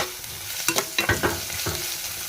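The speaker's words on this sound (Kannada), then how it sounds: "ಮೊದಲು ಉಳ್ಳಾಗಡ್ಡಿ ಫ್ರೈ ಮಾಡ್ಕೊಂಡ್ಬಿಡ್ರಿ ಉಳ್ಳಾಗಡ್ಡೆ ಎಲ್ಲ ಎಣ್ಣೆ ಒಳಗೆ ಚಲೋ ಮೆತ್ತಗಾಗ್ಬೇಕಿಲ್ಲ" Onions frying in oil in a home kitchen pan give a low, continuous sizzle, with several sharp scraping strokes of a spatula clustered in the middle as they are stirred.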